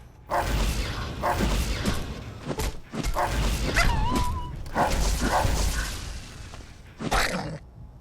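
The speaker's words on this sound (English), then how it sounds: "Forgot they have super barks." Dogs bark repeatedly in the video game Fallout: New Vegas, loud close bursts of barks and yips in an irregular run, mixed with whooshing combat noises and no talk.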